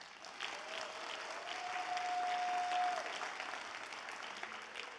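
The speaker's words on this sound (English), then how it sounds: "a big round of applause" An audience at a California Senate candidate forum gives the candidates a sustained round of applause, steady and fairly distant, with a faint tone running underneath.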